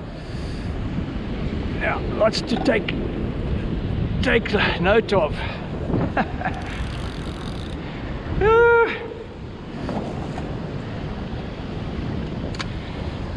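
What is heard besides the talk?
southeaster wind and waves on a beach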